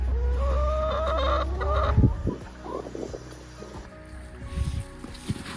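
Hens cluck and squawk close by, a few drawn-out calls at first, then shorter scattered clucks over low outdoor rumble.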